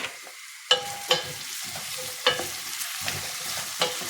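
Potatoes and onions frying together in a pan, a steady sizzle broken by several sharp scraping clatters of stirring, no voices.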